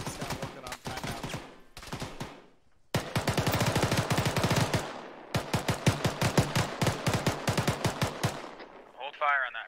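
Rapid automatic rifle bursts and single shots ring out in a squad shooter video game, loud and close, with short pauses between strings of fire.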